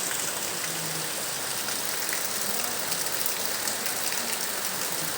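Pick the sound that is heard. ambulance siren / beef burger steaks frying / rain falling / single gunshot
rain falling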